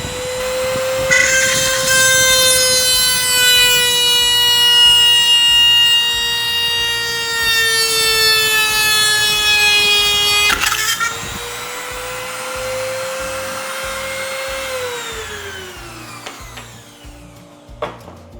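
A loud, high-pitched power drill whines steadily for several seconds drilling out a steering arm part on an MJX Hyper Go 14209 RC car, shifts pitch, then winds down and stops, with clattering knocks throughout.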